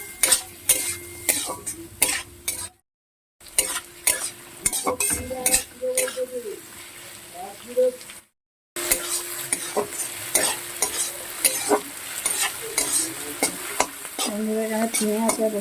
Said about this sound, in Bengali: পেঁয়াজগুলোকে ভালো করে ভাজবো